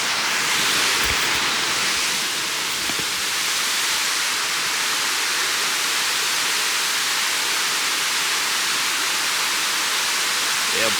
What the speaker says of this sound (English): I love waterfalls and water in general.